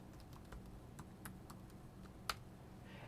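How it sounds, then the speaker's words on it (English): Faint, light typing on a computer keyboard, scattered keystrokes in an uneven rhythm with one sharper click near the end, heard alone at low volume. "Here you go, Lilith, I'll type it in here."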